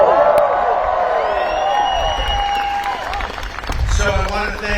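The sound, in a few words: large crowd applauding on White House lawn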